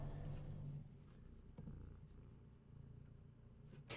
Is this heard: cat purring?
yes